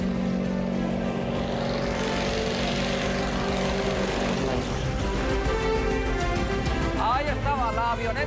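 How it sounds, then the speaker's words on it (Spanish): Propeller crop-dusting light aircraft passes low and close over a rice-field airstrip, a loud droning engine that swells and sweeps past, with people talking nearby beneath the noise. "Fijaos lo cerca que nos pasaba la avioneta."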